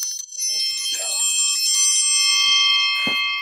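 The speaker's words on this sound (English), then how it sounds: "Ring that bell." A hand bell rung during a livestream, bright sustained metallic ringing with layered overtones lasting several seconds, with a couple of faint knocks and handling sounds underneath.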